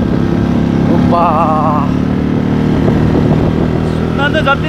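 A racing motorcycle on a ride from Khanigaun to Mudkuwa gives a loud, continuous engine drone close by, with people talking over it throughout.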